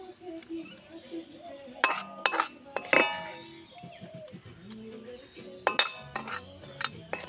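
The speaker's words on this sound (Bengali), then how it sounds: "এইভাবে একটু নাড়াচাড়া করে একটু ঠান্ডা করে নেব খুব তাড়াতাড়ি" A boondi laddu mixture is stirred in sugar syrup, with intermittent spoon clinks and scrapes against the pan and a voice talking in between.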